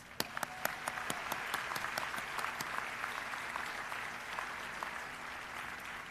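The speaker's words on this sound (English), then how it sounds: "let's have them stand up and give them a big round of applause" Applause for graduates at a university school of education commencement ceremony, a steady sustained wash of many hands clapping with a few sharp individual claps standing out near the start, continuous throughout.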